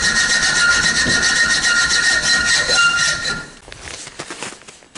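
A hacksaw cuts a metal patch for a boiler repair, giving a steady, close, harsh rasping for several seconds before it breaks off into a few scattered scrapes and knocks.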